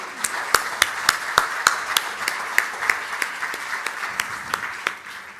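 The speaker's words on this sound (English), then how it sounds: "let's give a warm round of applause to Manvi." A crowd claps in a steady, even rhythm, sharp claps repeating several times per second, lively and close for a few seconds.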